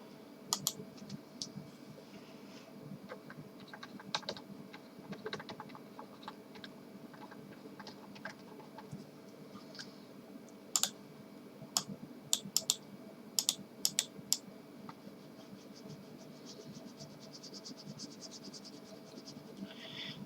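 Soft computer-keyboard typing at a desk, scattered light clicks through a quiet room hum, with a cluster of sharper keystrokes near the middle and no talking.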